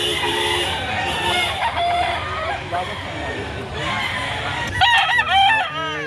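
Chickens cluck and a rooster crows loudly nearby at a chicken market in Lipa, Batangas, with repeated calls and farmyard noise, ending in a burst of crowing.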